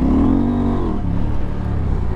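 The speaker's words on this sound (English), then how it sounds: "Even the way it sounds, it's just intoxicating with this wings exhaust." KTM 890 Adventure R Rally motorcycle with a Wings exhaust, its engine revving loud and close in one rising then falling sweep lasting about two seconds.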